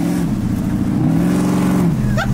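A slammed, supercharged 1965 Ford Mustang revs hard nearby, its engine roaring with a rising and falling pitch as it shifts, and a high blower whine showing briefly near the end.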